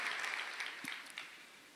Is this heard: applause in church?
yes